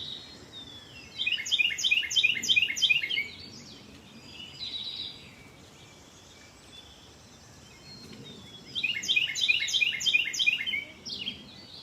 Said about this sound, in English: And listening to the birds here, maybe you have birds where you are too.